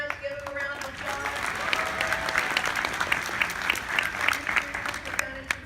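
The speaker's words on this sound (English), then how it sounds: "Give them a round of applause." Enthusiastic audience applause for the band at a crowded gala dinner, a dense, sustained wash of clapping from many hands in a room, with faint voices mixed in.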